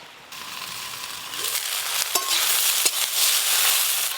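Okra dusted with turmeric fries in a covered pan, giving a steady, close sizzling hiss that swells slightly partway through, with a couple of faint clicks and no voices.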